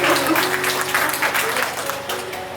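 An audience claps at a Hindi kavi sammelan poetry recital, a burst of fairly close hand-clapping that swells and then gradually thins as it fades near the end.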